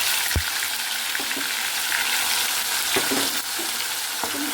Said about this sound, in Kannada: ಹುರ್ಕೊಳ್ಳೋಣ ಹಿಂಗೆ.